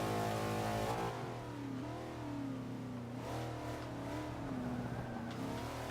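A 427 Shelby Cobra in Forza 5 racing, its V8 engine revving and shifting through gears, with engine pitch sweeping up and down in loud, continuous waves and no talking.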